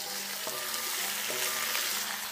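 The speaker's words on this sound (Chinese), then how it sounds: "下入剁好的鸡块。" Chopped raw chicken pieces sizzle and fry steadily in a hot wok with peanut oil, star anise and Sichuan peppercorns, a dense continuous crackle with a couple of soft spatula scrapes and no talking.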